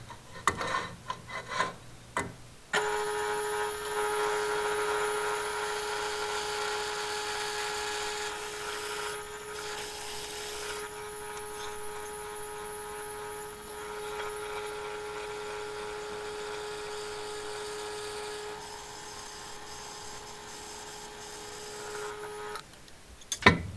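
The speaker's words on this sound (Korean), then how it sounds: "구멍을 뚫어줍니다." Drill boring pin holes through a clamped padauk wood knife handle, a steady high whine running for about twenty seconds after a brief start-up, stopping abruptly at the end, close and unbroken.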